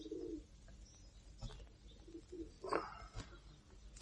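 Pigeons cooing outdoors at moderate distance, soft repeated low coos with scattered chirps and a faint flutter over quiet ambient background.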